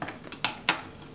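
A Back to the Roots garden-in-a-can is popped open, giving two short, sharp metallic clicks close by against a quiet room.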